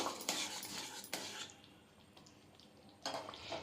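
A spoon stirs stuffed potato gravy with Maggi Magic Masala, making soft scraping strokes and clinks against the pan that come in short bursts with a quiet pause in between.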